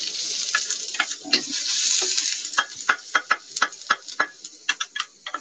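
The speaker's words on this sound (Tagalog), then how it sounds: "Tingisan natin sa mantika ulit. Kunti lang. Ayan. Ngayon natin ginger." Ginger frying in a little hot oil, a steady sizzle under a run of sharp ticking clatters of a utensil stirring in the pan.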